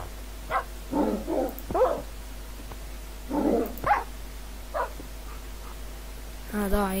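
A dog in the Minecraft video game gives short whines and yelps after being hit, with a few brief game sounds spread out over a low steady hum.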